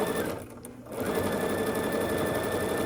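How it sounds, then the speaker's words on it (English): A sewing machine stitches quilt block pieces together, a steady mechanical whir that briefly slows and dips before running on at an even, close-up hum. "I would just start sewing"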